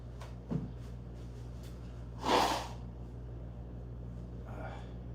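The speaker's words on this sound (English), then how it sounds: "Excuse me while I blow my nose." A person blows their nose in a short, breathy burst mid-clip near a workbench during table building, with a fainter snort at the start and another near the end, set against a low steady room hum.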